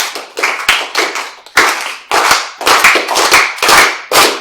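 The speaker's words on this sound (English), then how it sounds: "Could you all just please try to clap in unison?" A lecture hall audience claps in unison, loud, synchronized bursts of many hands striking together in a roughly even rhythm, broken by short gaps between groups of claps.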